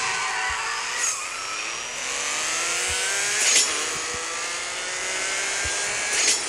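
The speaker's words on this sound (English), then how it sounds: "So now you hear it, you can actually see the car would be struggling." A car engine whines and revs at high pitch, straining with rising and falling tones and occasional sharper surges, loud and continuous with no voices.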